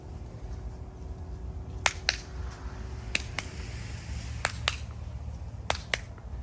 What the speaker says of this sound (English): Your next exercise is gonna be clap in front and clap behind